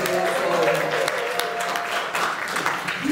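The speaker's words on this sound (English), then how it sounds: "big round of applause to the Griquas" A comedy show audience in Kimberley, South Africa, gives a steady round of applause with dense clapping from a crowd that holds for several seconds.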